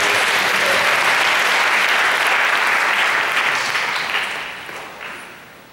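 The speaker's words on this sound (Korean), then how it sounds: "우리 반석 형제 잘 갔다 오도록 박수로 기도하겠습니다." A church congregation at a young adults' worship service bursts into loud, close applause that holds steady, then gradually fades out toward the end.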